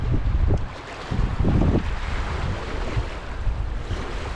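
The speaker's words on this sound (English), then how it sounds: "but way too much wind." Strong wind buffeting the microphone and choppy whitecap waves slapping around a 10-foot plastic Pelican Bass Raider fishing boat on open water, a loud continuous roar with gusty surges and no talking.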